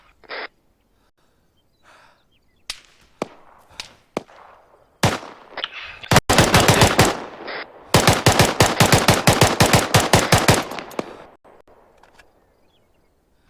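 Machine gun fire in a military fire-team training game session: scattered single shots give way to long, loud rapid bursts, with fast repeated cracks clustered in the middle and tapering off near the end.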